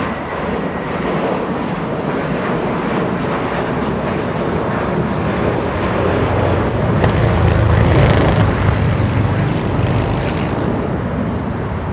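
An Air France Boeing 777 arriving from Paris on runway 25 Left at Los Angeles International Airport gives a loud, steady jet roar that swells slightly in the middle and then eases, heard alone without voices.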